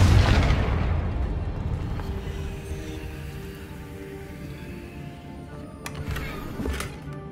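A Confringo spell blast in Hogwarts Legacy opens with a loud booming burst that decays into a long rumbling tail, followed later by a few faint crackles.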